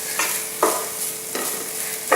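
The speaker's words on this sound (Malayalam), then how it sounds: "തക്കാളി ചേർത്ത് ഞാനിത് വഴറ്റി എടുത്തിട്ടുണ്ട്." Chopped tomatoes sautéed with mushrooms in a pan, with a spatula scraping and stirring in a few distinct strokes over a soft steady sizzle, close and alone without voices.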